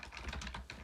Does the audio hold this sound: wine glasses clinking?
no